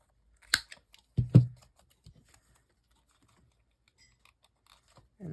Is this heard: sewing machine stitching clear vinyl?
no